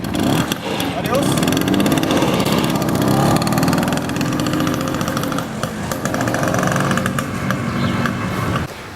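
A vintage Vespa scooter engine runs steadily and loudly just after starting, a rough continuous drone with voices over it.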